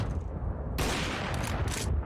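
Rapid gunfire is sprayed through a vent on the Nuke map of a tactical shooter game, a loud, crackling burst that kicks in suddenly after a quieter start and runs on in close, chattering pulses.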